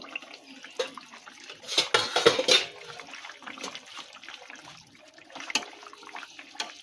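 A lid is lifted off a pot of simmering fish curry with taro and potato, giving a brief clatter and watery bubbling that stay close and fairly quiet with no voices.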